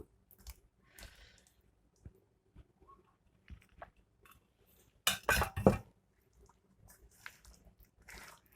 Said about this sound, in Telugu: ఇప్పుడు గోబీ వేసుకుందాము